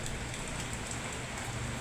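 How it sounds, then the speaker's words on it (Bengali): Heavy rain falls outside in a dense, continuous hiss of drops, steady and even throughout. "এই যে বাইরে প্রচণ্ড বৃষ্টি হচ্ছে"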